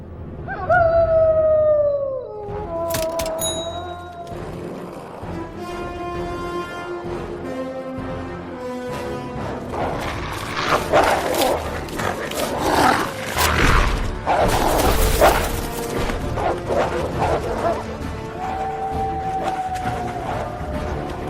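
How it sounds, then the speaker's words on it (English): Wolves howling in a film scene from The Chronicles of Narnia, several long rising and falling howls layered with growls and orchestral score, loud and dramatic over about twenty seconds. "The wolves coming to attack the sheep."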